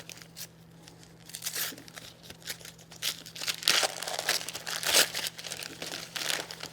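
Christmas gift wrapping paper crinkles and tears in bursts as a present is unwrapped close by, the rustling rising and falling irregularly.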